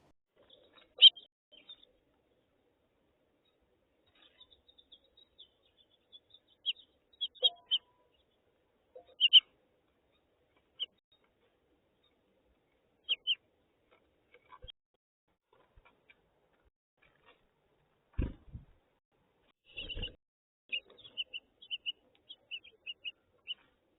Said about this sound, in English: let's see what birds come to the feeder